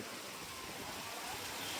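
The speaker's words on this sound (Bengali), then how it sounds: "সব নোংরা ভেসে ভেসে হাইড্রেনে জল মিশে যাচ্ছে এত বৃষ্টি" Heavy downpour during a festival in Raiganj, with a steady broadband hiss of rain and rushing water pouring into a drain, continuous and fairly loud with no talking.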